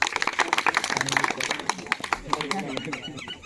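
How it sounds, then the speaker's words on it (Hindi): An audience at a school quiz contest claps in a burst of rapid, uneven applause for the first-placed winner, with a person talking over it. "ताली मारिए फर्स्ट के"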